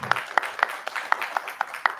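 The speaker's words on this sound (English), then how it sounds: "So let's give a big hand clap." A small audience at a community forum claps after a speaker's introduction, with a few distinct, sparse hand claps sounding at a moderate distance.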